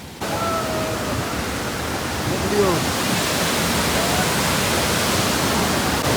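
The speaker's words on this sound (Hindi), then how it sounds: "तो चलू अब अहाँ सबके झरना के अंदर लऽ चले छी।" A large waterfall in Bihar gives a loud, steady roar of rushing water that fills the whole stretch without a break.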